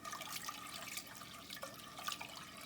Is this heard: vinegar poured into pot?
yes